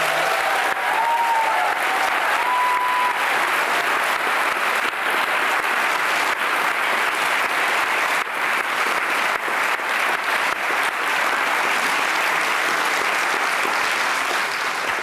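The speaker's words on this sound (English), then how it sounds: "Could we give them all a round of applause?" Sustained audience applause fills a theatre at a live New York Times panel event, a dense steady wash of clapping held at even loudness from start to finish with no talk over it.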